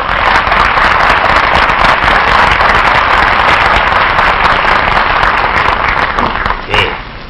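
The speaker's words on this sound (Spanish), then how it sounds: "¡Aplausos, por favor!" A studio audience on a Spanish-language TV comedy show applauds loudly and densely, a thick, continuous roar of clapping that holds for several seconds and then drops off abruptly near the end.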